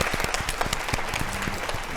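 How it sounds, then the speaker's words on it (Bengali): An audience at a televised family game show claps, a burst of dense, rapid applause from many hands, close and lively with no voices over it. "জোরে হাততালি সবাই"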